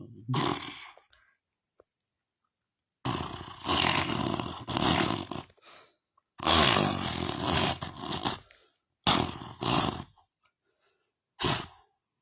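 A caged tiger roars in loud, close bursts, four or five long throaty roars and growls separated by pauses of near silence.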